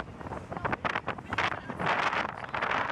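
Wind buffets the microphone on a beach during Hurricane Matthew, a loud, continuous rushing roar that swells and surges in gusts throughout.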